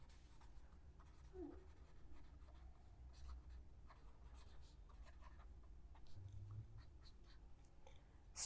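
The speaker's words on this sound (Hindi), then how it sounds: "तो यहाँ पर हम लिखेंगे" Marker or chalk writing on a board during a biology lesson on proteins, a steady scratchy scribbling that runs throughout at close range, with no speech over it.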